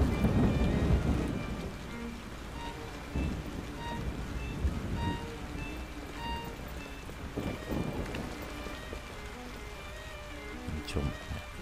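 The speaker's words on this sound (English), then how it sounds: "Oh, there's a storm coming." A thunderstorm in the game Yonder, with steady rain pattering on surfaces and low thunder rumbling beneath, plus scattered distant crackles; loud at first, then settling into a constant wash.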